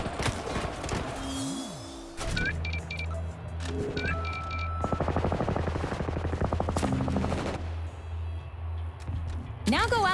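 Gunfire in the FPS video game Combat Champions played on an NVIDIA RTX 4050 system: bursts of rapid automatic shots and single cracks mixed with game effects and a steady electronic hum over several seconds.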